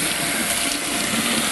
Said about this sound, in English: I need to rinse this really well before I put it into the pan